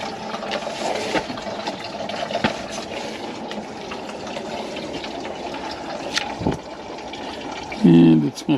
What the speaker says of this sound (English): you got a little bit of coolant in the bucket now